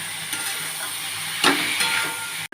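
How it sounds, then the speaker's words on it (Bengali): Spice paste frying in a pan for a prawn and cauliflower curry, a steady broadband sizzle and hiss with a louder burst of spitting as it is stirred midway, close and without talk. "আমি মশলাটা কষবো।"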